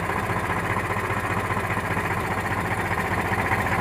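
A tractor engine idles steadily with a low, even throb while its hydraulic lift operates, with no break or change across the short stretch.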